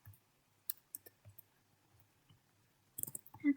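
Clicks from someone typing commands on a computer keyboard while configuring a Cisco router access list, a sparse run of soft keystrokes followed by a louder cluster of clacks near the end.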